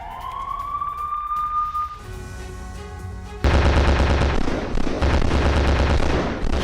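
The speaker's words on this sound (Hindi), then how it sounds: "यूक्रेन ने आर्म्ड व्हीकल से बरसाए हैं गोले" Battlefield din from the Russia-Ukraine war, a rising siren-like whine followed by a sudden burst of dense, rapid gunfire and booming shelling from a Ukrainian armored vehicle, loud and sustained.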